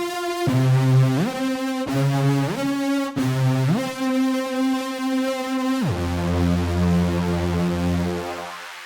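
Huge Lead Focus synth preset for Serum plays a sustained, buzzy, bright lead line that slides up between notes in repeated phrases, then drops to a low held note, loud and continuous without any talking.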